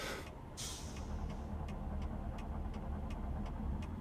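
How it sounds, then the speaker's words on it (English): A truck engine in American Truck Simulator rumbles steadily, with an air-brake hiss near the start and regular faint clicks over the drone. "Oh, I love this truck. I love the sound of it."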